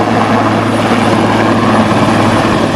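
A helicopter at an active helipad roars loud and close, its rotor beat throbbing steadily throughout with no voices.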